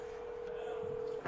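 A telephone dialing a call, one steady electronic tone held for about a second against faint background noise, then a brief click.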